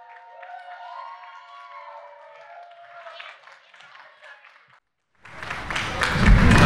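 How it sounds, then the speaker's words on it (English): After a stretch of talk and a brief pause, wedding guests burst into applause for the matron of honor during the toasts. The clapping and cheering come in close and loud and keep swelling. "everybody big applause to the matron of honor, Maggie"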